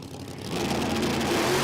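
Nitrous-fed drag racing car at a drag strip, a steady loud engine roar that swells after a brief quieter start, with no talk over it.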